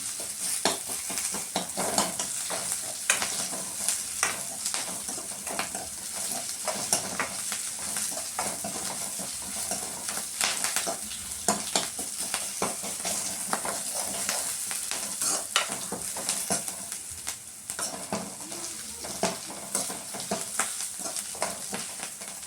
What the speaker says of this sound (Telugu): వేగినాయి ఆనియన్స్ అయితే.